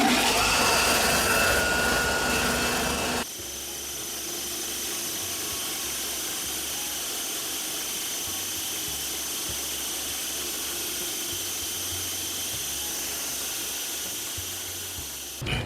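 A spice grinder machine grinds turmeric into powder, running steadily and loudly throughout after a louder burst at the start, with a continuous motorized whir.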